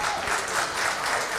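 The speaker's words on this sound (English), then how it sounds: "Let's give all of you that are here a round of applause." An audience at a commemoration event for Roberto and Vera Clemente applauds, a steady wash of many hands clapping at an even level throughout, with no talk over it.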